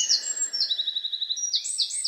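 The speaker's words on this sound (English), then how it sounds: "I'm surrounded by birds," Several birds chirp and trill in a private forest beside a brook, with repeated bright whistled notes in quick runs, fairly close and clear over a soft background hush.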